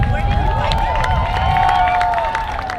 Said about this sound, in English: How's about another big round of applause for Sudden Rush today?